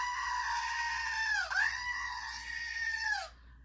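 The Screaming Goat, a novelty toy, lets out a loud, close, strained bleating scream that holds for about three seconds, dips briefly in pitch midway, then cuts off abruptly.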